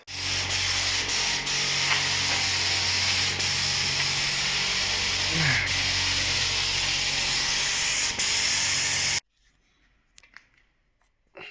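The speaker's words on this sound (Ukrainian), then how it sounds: "Тут також беремо фарбу. фарбопульти і вперед." A paint spray gun hisses steadily and loudly while spraying green camouflage paint onto a Honda CR-V, with brief pauses in the spray, then cuts off into near silence with faint handling noises.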